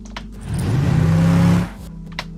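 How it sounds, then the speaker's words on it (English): A car drives past with a rising engine whir that swells over about a second and then cuts off, bracketed by brief sharper sounds before and after. "you hear the car entering on the right, and then you hear the sound balancing in to the center"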